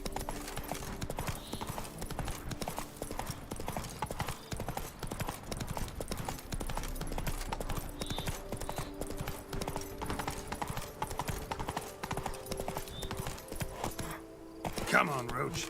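A horse galloping in The Witcher 3 video game, a steady rapid clip-clop of hooves running throughout under game sounds, with someone speaking briefly over it.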